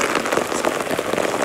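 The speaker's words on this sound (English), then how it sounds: "it's starting to rain really hard" Heavy rain falls hard outdoors, a dense, loud, continuous patter with no breaks and no voices.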